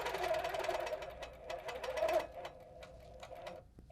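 A sewing machine stitches around a circle quilting ruler, its needle chattering in a steady rapid run that stays close and clear, then slows and stops near the end.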